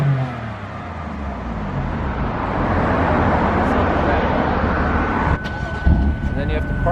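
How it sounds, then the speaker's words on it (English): A Lamborghini's engine revs up with a sustained, rising roar that holds loud and near, followed by a few sharper bursts near the end, against an outdoor parking-lot setting. "Give us a rev."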